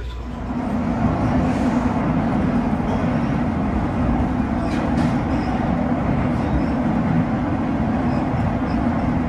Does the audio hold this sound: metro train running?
yes